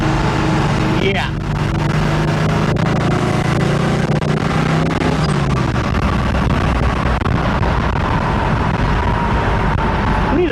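A 1968 Chevy II Nova Supersport with 4.56 rear gearing cruises at 55 mph around 2,900 RPM, giving a steady, loud engine and drivetrain drone throughout, with road noise and talk inside the car.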